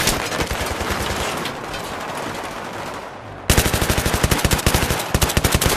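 Sustained automatic machine gun fire in the Battlefield 3 video game, a continuous rattling burst that briefly drops off and then resumes with loud, sharply spaced rapid shots, close and dominant.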